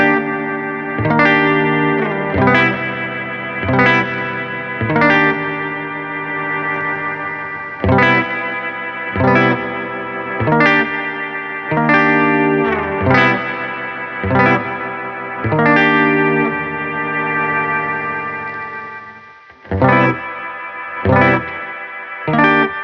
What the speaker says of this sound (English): this toggle here is the tone of the reverb